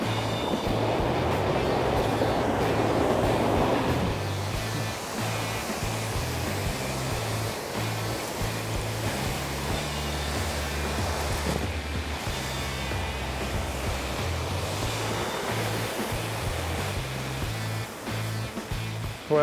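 A swollen, rushing creek in the New Zealand backcountry roars in a steady, dense wash close by, loud and continuous for the whole stretch with no voices over it.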